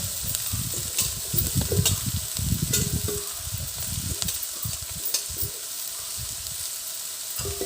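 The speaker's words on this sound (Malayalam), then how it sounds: "ചീര ഇട്ടു എല്ലാം കൂടെ ഒന്ന് ഇളക്കി കൂട്ടിയിട്ട്" Spinach stirred through in a hot pan, a constant close sizzle broken by repeated scraping, clattering strokes of a spoon tossing the greens, steady and moderately loud with no voices.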